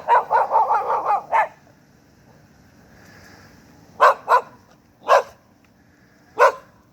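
A neighbor's dog barks in a quick burst of about six yips, falls quiet, then lets out several more single barks spaced apart, moderately close and with no talking over it.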